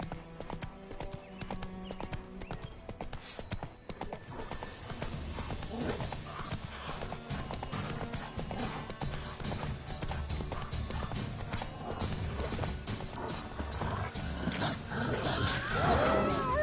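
Horse hooves clip-clopping at a steady galloping rhythm in The Witcher 3, continuous under game music and ambient sound with occasional voices, fairly close and moderately loud throughout.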